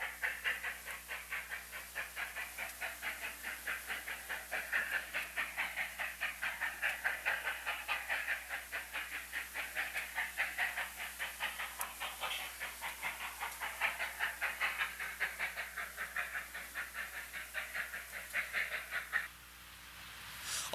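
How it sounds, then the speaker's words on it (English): A narrow-gauge work train rounds a curve, heard as a steady rhythmic chuffing and hiss at moderate distance with a continuous low rumble, fading at the end. "The work train rounds the curve near Lobo Lodge."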